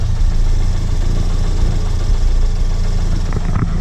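Ford Focus ST engine idling on 91-octane fuel, a loud, steady low rumble with constant vibration and a faint ticking texture, heard close and alone without talk.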